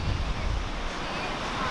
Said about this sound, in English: the ocean here is pretty amazing